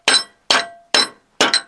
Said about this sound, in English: Let's see if I can hammer it in.